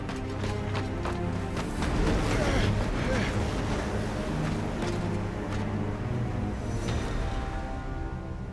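Stormy wind in the Final Fantasy XVI video game, a steady, loud broadband roar and rush that swells slightly in the middle and holds throughout, with no talk over it.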